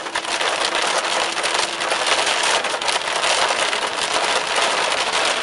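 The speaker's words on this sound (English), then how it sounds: "we're in the hail again" Dense, loud, continuous pattering of dime-sized hail from a supercell thunderstorm hammering on a hard surface, a steady hiss-like roar without pauses or voices.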